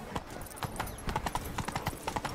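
Roach, the horse in The Witcher 3, gallops in a video game, with quick rhythmic clip-clop hoofbeats at low volume, close and steady, while a faint voice is heard briefly.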